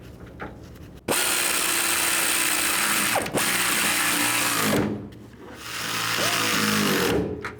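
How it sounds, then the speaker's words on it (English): A ratchet tightens tailgate hinge bracket bolts on a 1999-2007 Chevy Silverado 2500, giving loud, close, continuous clicking runs broken by short pauses near the start, middle and end. "get the bolts started, and tighten them down"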